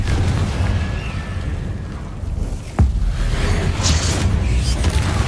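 A Confringo blasting curse goes off in Hogwarts Legacy as a single sharp burst partway through, cutting through a steady low roar of background battle noise, with no voices heard.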